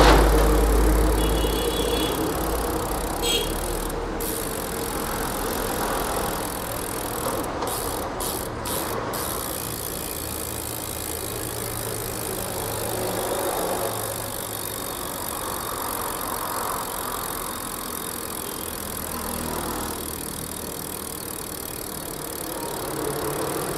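A Fulcrum Racing Zero ceramic bicycle wheel spun by hand, freewheeling with a soft continuous hub whir and a few sharp clicks early on, over road traffic noise outdoors.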